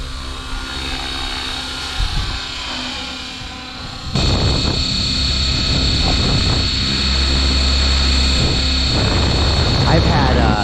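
An Align T-Rex 550X RC helicopter on its maiden flight gives a continuous high rotor whine and buzz that swells louder partway through and then holds steady, with voices talking over it.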